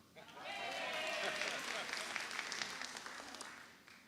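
Conference audience applauding in a large hall, a broad wash of clapping that swells and holds for a few seconds before fading, with some voices faintly mixed in.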